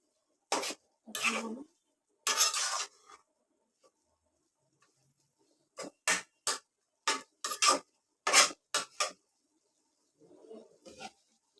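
A spoon stirs and scrapes ivy gourd greens with potatoes in a pan, short bursts of scraping and clattering in irregular clusters, close and clear against near silence.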